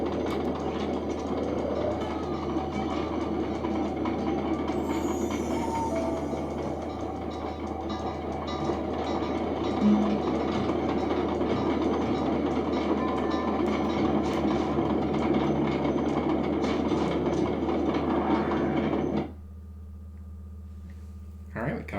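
A train in the video game Sly 2: Band of Thieves rumbles steadily with a rhythmic rolling clatter and high metallic whine, fairly loud and continuous, then cuts off abruptly near the end.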